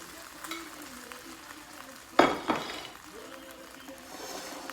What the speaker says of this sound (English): Okay, the other one's frying up.